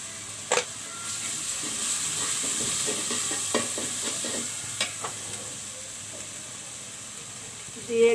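Dry chili powder hits a hot, sizzling pan and is stirred, producing a loud, continuous frying hiss broken by scraping strokes and a few sharp clicks, with no one talking.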